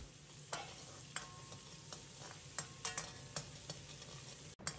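Chopped aromatics sizzle in hot lard in a wok, with a steady frying hiss broken by several sharp scrapes and taps of a spatula stirring the pan, no voices.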